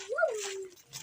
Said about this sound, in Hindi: यहाँ कुत्ता बोल रहा है।